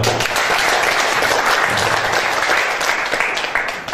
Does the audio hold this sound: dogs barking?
no